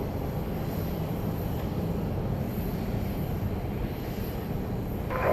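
Southwest Boeing 737 MAX 8 taking off at Dallas Love Field, a steady broad jet engine roar that holds at a constant loud level throughout.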